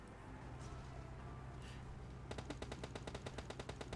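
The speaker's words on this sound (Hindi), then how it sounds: "इन लोगों पे फायर किया किसी ने" A rapid burst of automatic rifle fire in the PUBG Mobile battle royale game, sharp evenly spaced shots starting abruptly after a couple of seconds of quiet ambience and continuing to the end.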